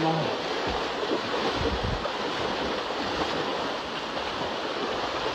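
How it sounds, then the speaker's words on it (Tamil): Floodwater rushes through a street in Sathankulam during heavy rain, a steady roar of flowing water and rain close to the microphone, with faint voices in the background. "இவ்வளவு தண்ணி வருது"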